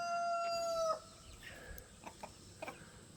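A rooster crows loudly for about a second, then hens cluck in short scattered bursts nearby over a faint outdoor background.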